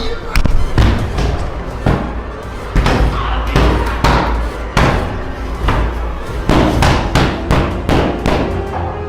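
A door slams and bangs repeatedly, loud sharp impacts close by at an irregular rhythm, with a few heavier thuds among them.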